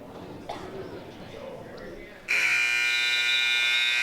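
Scoreboard buzzer ending a high school wrestling match in a gym, a loud harsh sustained electronic tone that cuts in over crowd noise and an announcer's voice and holds to the end.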